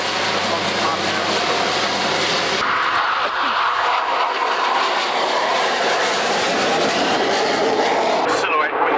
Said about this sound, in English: Look at that for a short takeoff. This is the C-130J-30